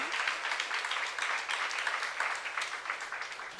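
Church congregation applauding during a youth service sermon, a steady, dense wash of many hands clapping throughout, moderately loud and close, with no speech over it.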